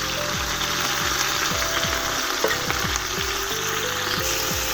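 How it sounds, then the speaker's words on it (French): Onions fry together with browned meat in a pan for a vegetable couscous. A loud, steady sizzle hisses throughout, with a faint rhythmic pulsing underneath and no voices. "je mets les oignons pour que ça dore ensemble"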